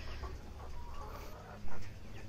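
Chickens being raised for egg production cluck softly and intermittently in a coop, a steady low farm hum beneath them and one brief louder burst near the end.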